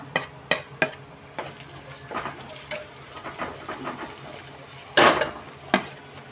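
Onions frying in a pan for an arati kaya fry, a low sizzle behind scattered sharp knocks and clatters of utensils against the pan.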